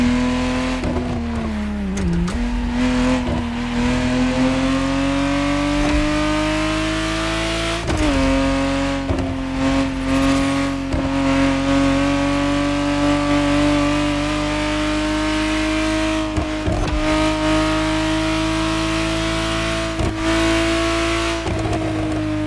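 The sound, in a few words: Ferrari Testarossa 1991 engine revving, video game The Crew Motorfest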